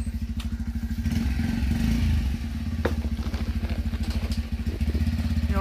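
A motorcycle engine idles and chugs close by in a steady rapid pulse, with a few clicks and knocks over it.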